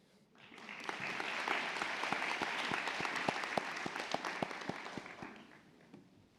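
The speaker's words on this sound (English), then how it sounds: "Let's give her a round of applause as she's being hooded." Applause from the audience at a spring convocation hooding ceremony, rising quickly into steady, even clapping that holds for several seconds before tapering off.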